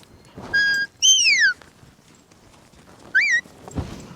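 Herding whistle giving a sheepdog half of the away command on a sheep farm: three sharp, clear tonal blasts, two close together with falling pitch sweeps and a short rising-falling one after a pause, loud and near.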